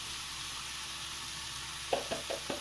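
Vegetables stir-fried with black pepper in a pan give a steady soft sizzle, then four quick stirring scrapes near the end, close and moderately quiet, with no talking.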